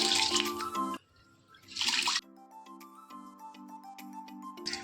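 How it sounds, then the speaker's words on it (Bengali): Rice being washed in water by hand in a home kitchen, with short bursts of splashing and swishing separated by quieter gaps with light drips, close and alone with no talking. "আমি চালটাকে একটু ধুয়ে রেখে দেবো কিছু সময় ভিজিয়ে তার জন্য চালটা আগে এবার ধুয়ে নেবো আমি"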